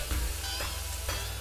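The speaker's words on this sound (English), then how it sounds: "We're searing the pork right now." Pork sears in a hot pan, giving a loud, steady, crackling sizzle with no voices over it.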